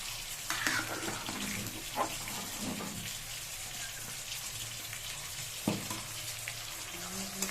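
Lentils and bottle gourd cook together in a pot, giving a soft, steady bubbling and hiss with a few light clinks of utensils, close by.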